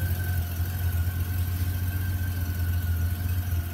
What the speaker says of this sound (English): it's a pretty smooth sounding engine